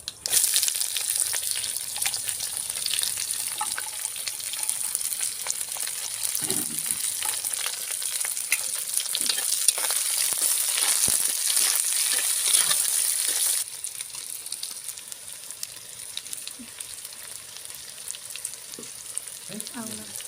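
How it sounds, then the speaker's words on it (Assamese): Onions sizzle steadily in hot oil with white mustard seeds and garlic, a loud continuous frying hiss with occasional stirring scrapes, easing slightly partway through. "বগা সৰিয়হ আৰু নহৰু এটা দিছোঁ তেলত দি দিম। পিঁয়াজখিনি দি দিম।"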